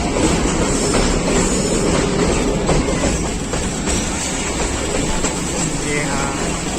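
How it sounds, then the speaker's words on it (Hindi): The Thall Express of Pakistan Railways rolls slowly through Jhalar railway station with a steady rumble and clatter of the carriages, heard from on board and continuous throughout. "झलार रेलवे स्टेशन मेरे ख्याल में स्किप करेगी ट्रेन।"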